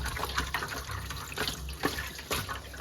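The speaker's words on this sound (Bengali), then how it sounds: "আমার কাতলা মাছটা ধোয়া হয়ে গেল" Water runs from a tap while katla fish is being washed in a kitchen sink, a steady close splashing with small gushes and drips.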